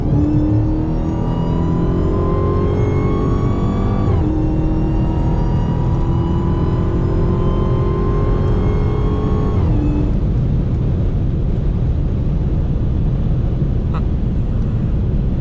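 A Chevrolet Camaro and a stock Dodge Hellcat Widebody accelerate hard side by side, their engines roaring loud and close with rising pitch sweeps that break at each gear shift, then settle into a steady drone, with a voice talking over it.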